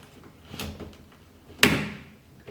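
Spring clips of a recessed spotlight fixture snap open inside a ceiling hole, giving one sharp, close click-clack at about the midpoint, with a softer knock just before it and quiet room tone around both.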